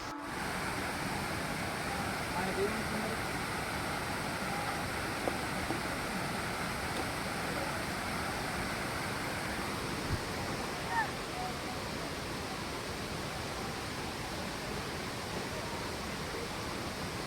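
Anjani Kund waterfall pours in a steady, dense roar of rushing water that stays constant throughout, with faint voices under it.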